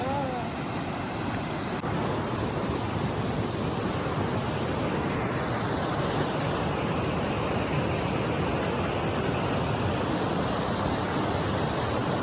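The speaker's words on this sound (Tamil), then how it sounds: "அருவி சத்தம் கேக்குதா" A waterfall swollen after two days of rain roars as a continuous, loud, broadband rush of falling water that stays steady throughout.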